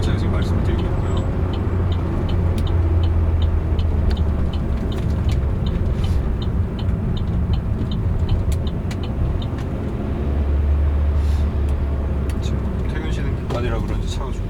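Manual-transmission car driving in traffic and shifting from first into second gear, a steady low engine drone with rising revs that dip at the change, under someone talking throughout.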